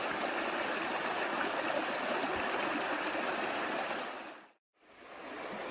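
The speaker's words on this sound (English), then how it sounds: "Here's the river." River rushing beside a backpacking trail on the Bartram Trail, a steady broad wash of flowing water heard close and alone, briefly cutting out near the end before resuming.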